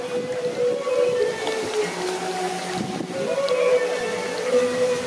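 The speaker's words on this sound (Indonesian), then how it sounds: "tapi kencang banget anginnya loh" Strong wind at a kite festival, a constant rushing gust buffeting the microphone throughout, with faint tonal whines and distant activity beneath it.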